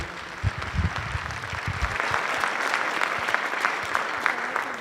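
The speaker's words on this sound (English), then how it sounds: "If you can just give them a round of applause for their continual support of this program." At a high school winter band concert, the audience applauds program supporters, a sustained, moderately loud patter of many hands clapping, with a few low sounds near the start.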